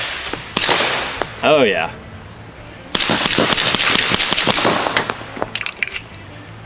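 A Scorpion Evo 2 fires Gorilla Silverback 135 grain ammunition in a rapid string of loud, sharp, cracking shots close by, with brief pauses between bursts and a short spoken exclamation.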